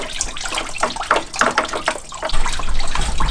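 Coolant leaks from a car radiator and splashes onto a garage floor, a close, loud, uneven pattering stream that thickens into a steadier pour near the end.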